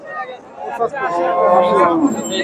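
A cow lows at a busy village cattle market where local cows and heifer calves are being sold, a drawn-out moo rising over crowd chatter and nearby voices.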